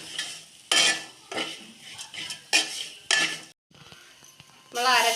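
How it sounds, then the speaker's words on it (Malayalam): Spoon stirring and scraping crushed masala with coriander powder as it roasts in a pan for chicken curry, with repeated clinking strokes against the pan, close and fairly loud, and a brief pause near the end. "നന്നായിട്ട് ഇളക്കി മൂപ്പിച്ചെടുക്കാം"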